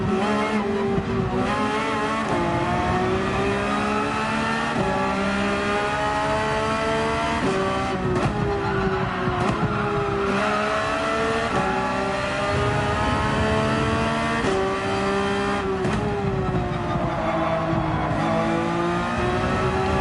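A Porsche 911 GT3 screams at full throttle around Mount Panorama in Gran Turismo 7, its engine note loud and continuous, rising through revs with brief dips at gear changes and no talking over it.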